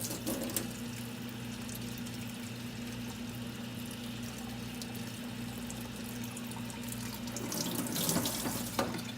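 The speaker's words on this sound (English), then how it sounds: "How that soil is draining." Water runs through the soil of a potted philodendron in a continuous close trickle and wash, swelling briefly louder toward the end.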